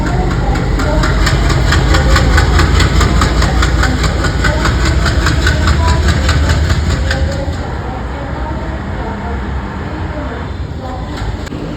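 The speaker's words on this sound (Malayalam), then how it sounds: "പൂനെ കന്യാകുമാരി ജയന്തി ജനത മന്ദം തിരുവനന്തപുരം സെൻട്രൽ റെയിൽവേ സ്റ്റേഷനിലെ 1-ാം നമ്പർ പ്ലാറ്റ്ഫോമിലേക്ക് വന്നുകൊണ്ടിരിക്കുകയാണ്." Pune–Kanniyakumari Jayanti Janata train hauled by a WAP7 electric locomotive pulling into platform 1 at Thiruvananthapuram Central station, a loud continuous rumble and rhythmic wheel clatter that eases slightly as it slows.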